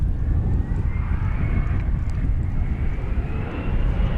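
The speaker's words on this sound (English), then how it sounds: "Actually, the A300 is coming in on this side." An Airbus A300 landing at DFW airport gives a steady, loud jet engine roar with deep low rumble and a faint rising whine, close and continuous throughout, with no talking.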